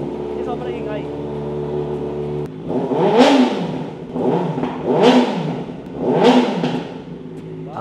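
Inline-four motorcycle engine with a loud Ixil exhaust, first idling with a low steady hum, then revved hard three times in succession, each blip rising to a loud high wail and falling back, close by.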